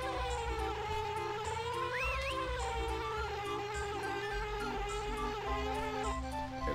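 Banjo-Kazooie video game: the bee's insect-like buzzing hum continues steadily under the game's music, close and fairly quiet, with no voices.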